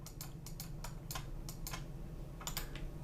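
Keyboard shortcut keys tapped while working in SketchUp, a sparse run of light, close clicks in small irregular clusters, quiet and with no talking.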